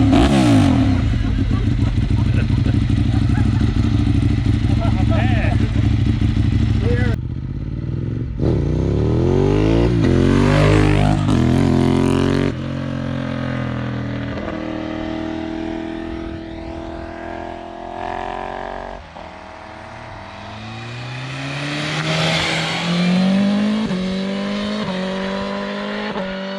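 A motorcycle engine revs on a touring trip in the Scottish Highlands, loud and close, its pitch sweeping up and down through repeated throttle blips, then settling into a rising, sustained roar.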